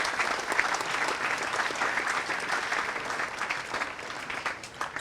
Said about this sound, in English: Can you clap for that?